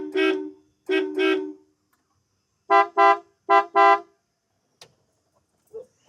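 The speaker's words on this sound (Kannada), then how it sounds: "ಇದರ ಹಾರ್ನ್ ಸೌಂಡ್ ಮಸ್ತಿದೆ, ಹೇಗಿದೆ ಕೇಳಿಸ್ತೀನಿ ತಡೀರಿ" A Hindustan Motors Ambassador car horn sounds loud and close in short bursts: two beeps, a pause, then four quick honks, with a faint click at the end.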